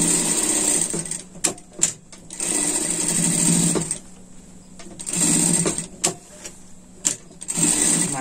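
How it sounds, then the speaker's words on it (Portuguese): Sewing machine stitching a pet sling bag, running in several loud bursts separated by short pauses and clicks. "Mais uma costura aqui pra prender bem. E vem prespontando."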